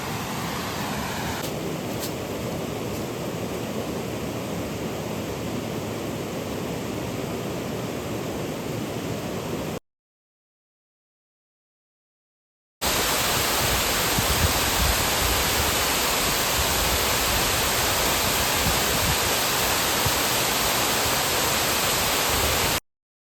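Creek water flowing beside a hiking trail gives a steady broadband rush, moderate then much louder and closer after a brief silent gap, with no voices.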